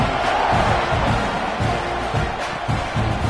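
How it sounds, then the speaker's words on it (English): A stadium crowd in a college football video game, Georgia versus Texas A&M, buzzes with a dense, steady roar of many voices, loud and continuous with scattered shouts rising out of the din. "this crowd is buzzing after that last score"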